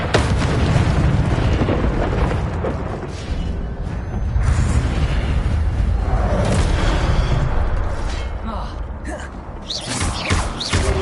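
Incendio fire spells burst and roar in Hogwarts Legacy combat, a dense, loud rumble of booming explosions and crackling flame that continues throughout, with a voice speaking briefly over it.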